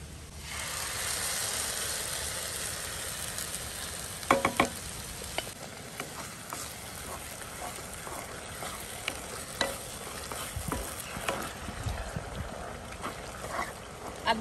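Grated carrot roasts in a pan, a soft, low sizzle under frequent scraping clicks of a spoon stirring the pan.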